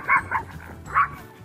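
A small dog gives three short, high-pitched yips, two close together and one after a pause, fairly near and clear.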